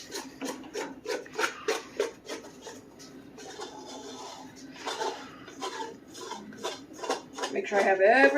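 Bread dough is scraped from a mixing bowl with rapid rasping strokes, then slower scrapes and bumps as the bowl is cleared, close and moderately loud, ending in a brief high squeak.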